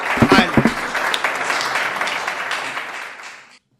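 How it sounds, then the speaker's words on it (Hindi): An audience claps loudly to welcome the poet Lull Kanpuri onstage, a dense burst of applause that holds steady and then stops abruptly after a few seconds. "जोरदार तालियां बजाकर लुल्ल कानपुरी को आमंत्रित करिए, स्वागत करिए उनका।"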